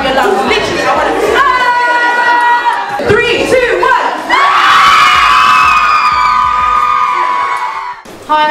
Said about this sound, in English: I want you guys to scream at the top of your lungs.